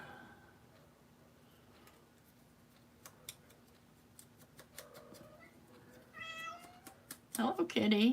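A house cat meows a few times near the end, with rising, insistent cries that come in louder after a quiet stretch of faint clicks and rustling.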